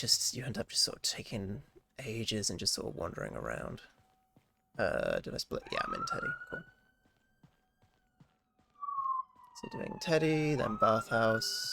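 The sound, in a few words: ambulance siren passing outside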